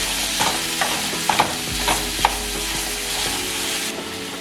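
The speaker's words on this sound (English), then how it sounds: "We're gonna break it up and then we're gonna brown it a little bit." Ground beef being broken up and browned in a pan, a steady sizzle punctuated by repeated scraping and tapping of a spatula, close and continuous.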